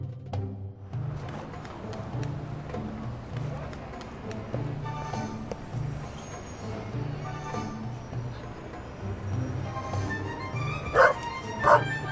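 Repeated barking and yipping from a dog in The Raven Remastered video game, close and loud in several bursts, with a voice speaking over parts of it.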